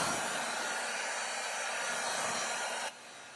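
A hair dryer blows steadily on a paper mache heart, a loud continuous broadband whoosh that holds for about three seconds before dropping to a softer, lower setting at the end.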